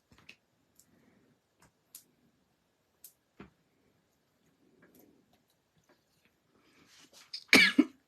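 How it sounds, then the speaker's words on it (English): Sparse soft clicks and small throat sounds, ending in a loud burst of coughing close by. "Because otherwise I'll be coughing and coughing and coughing."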